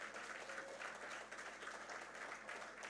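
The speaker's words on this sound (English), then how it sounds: "we should give them a big, big round of applause" Steady, sustained applause from a business audience honouring a company's 90 years, a dense wash of clapping held at an even level throughout.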